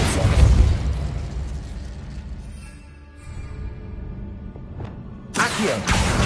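A Repulso spell blast in the video game Hogwarts Legacy lands as a loud boom followed by a decaying rumble, with another sharp burst near the end.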